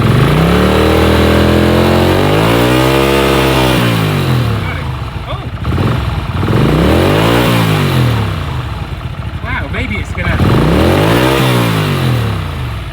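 A 1979 Honda CX500 custom motorcycle engine, warm from riding, revs up and down in repeated loud, close swells, each rising and falling in pitch over a rough idle.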